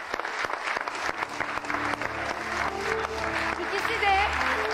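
Studio audience applause on a Turkish daytime talk show, a dense, lively wash of clapping carrying on steadily with some background music or crowd sound beneath it.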